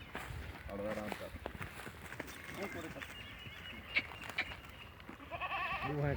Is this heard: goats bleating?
yes